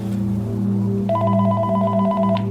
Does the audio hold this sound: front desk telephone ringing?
yes